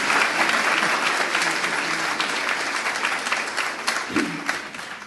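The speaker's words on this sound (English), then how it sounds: "Please welcome her and a round of applause." A convocation crowd at San Diego Central Library applauds steadily, dense clapping that slowly tapers off toward the end.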